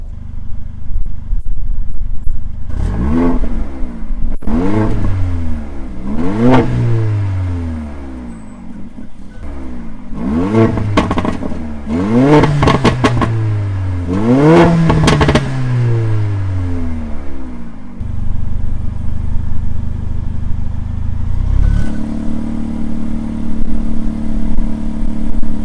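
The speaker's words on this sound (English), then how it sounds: "I'll switch it to basically Sport Plus, valves open, and you'll get to hear all the pops and the crackles" Mercedes CLA 45 AMG in Sport Plus with exhaust valves open, revved repeatedly in sharp rising and falling bursts, about seven rev blips with crackles between them, then settling into a steady idle drone near the end.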